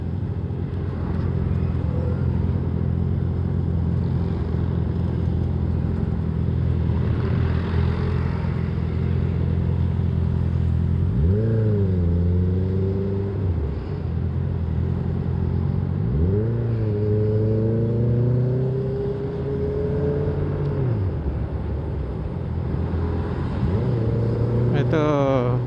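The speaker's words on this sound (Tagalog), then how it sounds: "Oh, ito dalawang tambutso nito." A road vehicle with dual exhaust pipes rumbles at idle, then revs up in several rising and falling bursts, loud and close, with someone talking over it at times.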